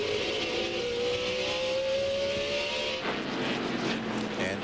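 Onboard sound from a NASCAR race car at the 2001 Old Dominion 500, a loud, steady engine drone with a shifting pitch, then a change in tone as the car moves through the lap.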